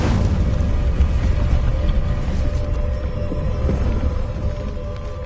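A rumbling fiery blast from the Incendio fire spell in a Hogwarts video game, a loud, sustained roaring burst that slowly fades toward the end.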